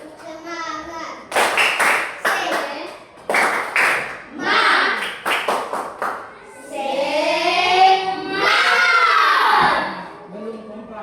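Children in a classroom perform a rhythmic clapping chant, bursts of claps alternating with shouted chanted lines, then a long loud group shout near the end; an adult voice leads at the start.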